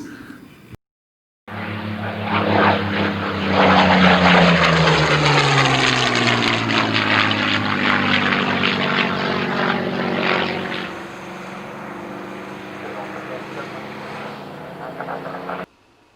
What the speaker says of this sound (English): Shut up, compressor.